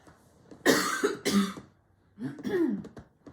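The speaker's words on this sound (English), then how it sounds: "I'm going to cough." A person coughs nearby, two rough bursts in quick succession, then a longer throaty cough after a short pause.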